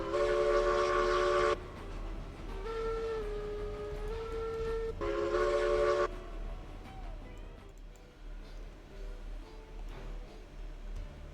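A steam locomotive in a railroad video game sounds long, loud multi-tone whistle blasts, two sustained sounds separated by a quieter tonal stretch, over a low rumbling engine bed.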